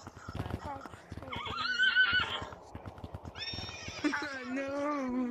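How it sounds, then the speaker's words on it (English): A horse neighs and whinnies in short bursts amid clip-clop hoofbeats inside the Gorilla Tag VR game, fairly close and clear, with speech-like voice fragments mixed in. "But why is there a horse?"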